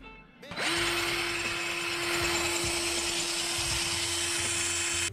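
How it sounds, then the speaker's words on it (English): A power drill bores a hole through a piece of flattened metal for a mini bike exhaust, starting abruptly and then holding a loud, steady, high whine for several seconds before cutting off at the end. "So now I'll drill a hole right there."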